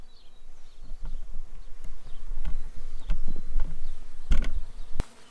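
Honey bees from a package being installed into a medium hive body buzz in a steady, close drone, with occasional handling knocks and taps.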